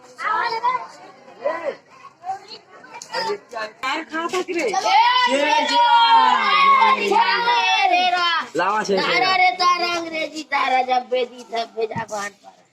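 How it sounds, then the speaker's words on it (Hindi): A crowd of village children call out together asking for Chher Chhera festival alms, high overlapping voices chanting and chattering loudly up close, rising into a sustained group shout. "सब लड़का मन पूरा छेरछेरा मांगे और पूरा भीड़ लगा है।"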